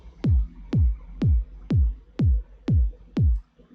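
Processed kick drum in a minimal house track made in Ableton, with low end trimmed around 200 Hz: seven punchy, deep thumps at an even steady tempo, each with a quick downward pitch sweep, loud and alone.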